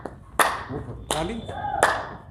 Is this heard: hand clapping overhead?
yes